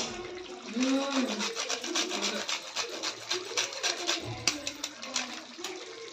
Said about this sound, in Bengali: এবারে আমি লাস্টলি এর মধ্যে সামান্য একটু জায়ফল ঘষে দেবো